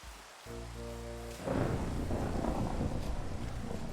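Thunder rolls during a Minecraft rainstorm: a low humming tone gives way to a loud, sustained rumbling crash that swells and lingers as heavy rain and wind roar on.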